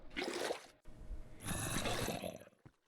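Water scooped into buckets in a video game, two bursts of splashing, pouring liquid separated by a brief pause, close and fairly loud with no talking.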